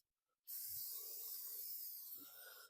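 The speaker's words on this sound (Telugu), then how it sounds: "కొద్దిగా వాటర్ స్ప్రే చేసుకోవాలి" A steady, close hiss of water spraying onto tandoori chicken starts abruptly after a brief quiet and keeps going without a break until the end.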